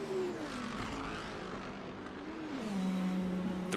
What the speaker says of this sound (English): The roar of the V10 going through the chicane is absolutely incredible